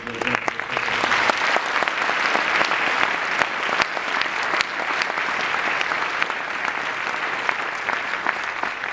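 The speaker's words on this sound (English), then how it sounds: "Would you please give Mr. Stengel and Mr. Borswell a round of applause for the outstanding organization?" An audience at a school concert claps in sustained, dense applause that holds steady and loud throughout, with no voices rising above it.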